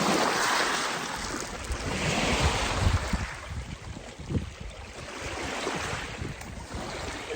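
Waves wash steadily along an Arctic Ocean shoreline while wind buffets the microphone, a continuous broadband roar with low gusty rumbles and no speech.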